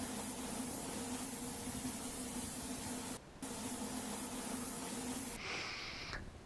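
Continuous hissing spray of a paint spraying simulator with an airless spray gun at close range, broken by a brief pause midway, then resuming before a change in tone near the end.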